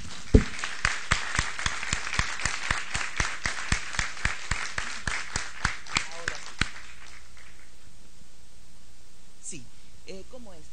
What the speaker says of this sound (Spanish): multitudinario que se merece Harald Herford, con un aplauso fuerte para él.